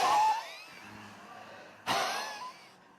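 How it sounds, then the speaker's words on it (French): Coughing and wheezy, forced breaths during a yoga breathing exercise, with two bursts of rough exhalation, one at the start and a sharper one partway through, fading into quieter breathing. "Si ça tousse, ça tousse."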